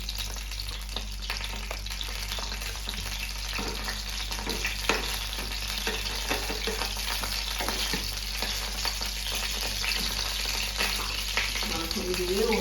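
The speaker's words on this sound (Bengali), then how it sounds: "কপি ভাজার যে তেলটা ছিল তার মধ্যে আবার একটু মাখন দিয়ে দিলাম।" Butter sizzles and spits in hot oil left over from frying cauliflower, a steady close crackle running the whole time with faint stirring clicks.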